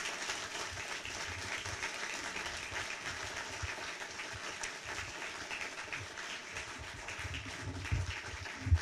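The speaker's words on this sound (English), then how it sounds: "I hope you all will join me in giving our speaker a round of applause." Audience at a book festival author talk applauds steadily for about nine seconds, a broad even wash of clapping from a seated crowd with no voices on top.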